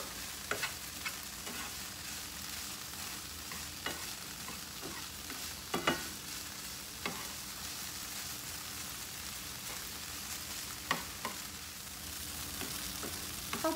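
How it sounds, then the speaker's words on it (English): Onions fry steadily in a pan with a constant sizzle, broken by sharp scraping clicks of a utensil as they are stirred now and then; nobody speaks. "I just keep stirring in it so my onions don't burn"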